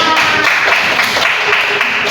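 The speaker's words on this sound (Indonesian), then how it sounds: "Semua anak-anak ibu tepuk tangan." Schoolchildren in a classroom clap together in a steady, loud, dense patter that fills the short moment without pause.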